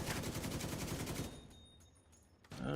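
Rapid automatic gunfire in The Division 2 video game, a loud dense burst of shots for over a second, then a short lull before more firing breaks out.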